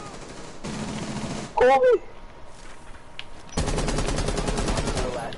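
Automatic gunfire in a video game comes in two rapid, dense bursts, one early and a longer one at the end, with a loud shouted voice in the quieter gap between them.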